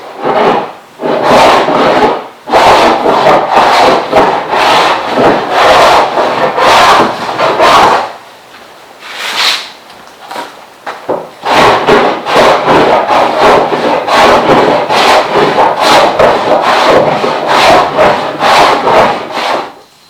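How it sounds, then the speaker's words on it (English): Repeated rasping strokes of a hand plane shaving wood, in quick rhythmic bursts with a short pause midway, close and fairly loud. "I'm going to plane the whole thing, get them smoothed out and flat"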